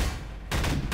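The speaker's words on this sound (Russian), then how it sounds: "Я стреляю." A gun firing in the video game Garry's Mod: a muffled low rumble that swells into a sharp, dense burst of shots halfway through and holds to the end.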